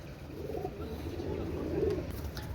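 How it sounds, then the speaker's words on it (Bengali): Soft, low cooing of a pair of Oman high-flying pigeons, a couple of gentle rolling coos heard close by over quiet background noise. "একজোড়া ওমান টেটে কবুতর"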